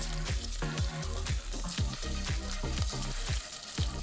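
Chopped garlic and ginger sauté in hot oil in a pan for bajra millet khichdi, giving a close, continuous sizzle broken by repeated sharp scraping and stirring clacks of a spoon, with no voices.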